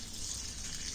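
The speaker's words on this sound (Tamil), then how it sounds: "ஸோ நான் 2 டம்ளர் அளவு நான் தண்ணி சேர்த்துக்கிறேன்." Water pours steadily into a pan, about two tumblers' worth for cooking rice with coffee powder in a natural hair dye preparation, a continuous soft hissing gush heard up close.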